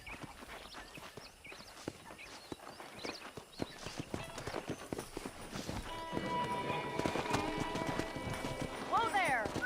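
Video game horses' hooves clip-clop at a quick gallop, growing louder and denser as more horses join, with a whinny near the end and a music-like background.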